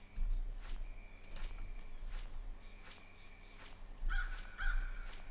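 A crow caws in a nighttime scene of the horror video game Rake, its calls coming from a distance over a steady chirp of crickets, with a couple of louder, closer caws near the end.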